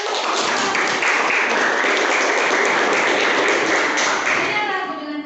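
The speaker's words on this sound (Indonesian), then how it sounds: "Kasih tepuk tangan lagi." Loud, dense applause in a classroom session, an enthusiastic burst of close clapping that fills the room at steady volume and fades slightly at the end.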